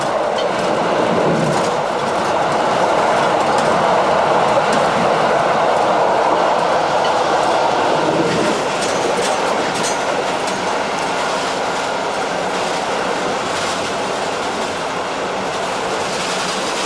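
British Pullman train of the Venice-Simplon Orient-Express running on rails, a continuous heavy rumble and roar with faint rhythmic wheel clatter and metallic squeal, steady and enveloping, heard from on board with no talking.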